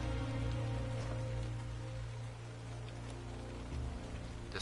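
Rain falling in the video game ARK at night, a soft steady patter of drops on a surface, faint and continuous under a low ambient hum.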